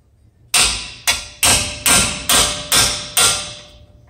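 A 22 mm wrench on an Isuzu NPR HD front brake bolt is struck six times in a steady rhythm, each sharp metallic hit loud and close, ringing briefly before fading.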